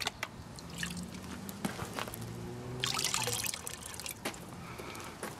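Water sloshes and swirls in a gold pan while the bottom is cleaned out down to black sand from Tasmanian gold ore, a steady close wash with light trickling and splashing throughout.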